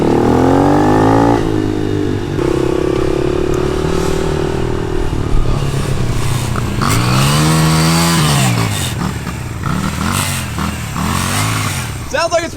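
A motorcycle engine runs close by, loud and continuous, rising and falling in pitch through repeated revs with a rough, bogging edge, while voices talk over it.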